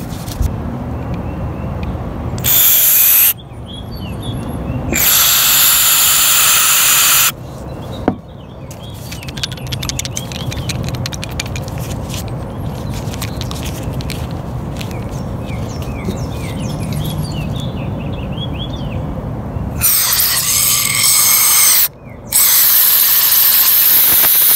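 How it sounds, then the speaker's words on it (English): Aerosol mass airflow sensor cleaner sprayed onto a removed PCV valve from a 2002–2006 Toyota Camry/Lexus: several close, loud hissing bursts of varying length, with quieter background noise between them. "So I'm just going to squirt some on here."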